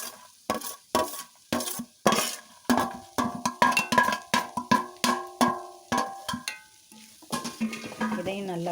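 Coconut pieces frying with onions in a pan, with a steady sizzle under repeated sharp scrapes and clinks of a spatula stirring against the metal, close and rhythmic.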